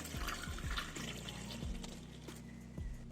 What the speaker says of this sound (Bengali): কড়ার মধ্যে দিয়ে দেবো জল